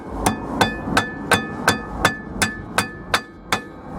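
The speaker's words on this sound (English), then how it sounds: "and then you take your hammer and" A hammer strikes metal ten times in a steady, even rhythm while fitting rear brake pads on a Mercedes 190D/190E, each tap sharp and ringing, close by with no talking.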